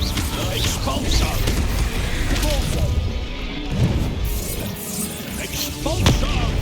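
Repeated blasting spells in Hogwarts Legacy crash and thud amid a busy battle, a dense wash of booms and impacts layered with game effects and background sound.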